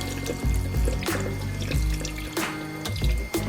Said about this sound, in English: run a little bit of water just to see it's really clean.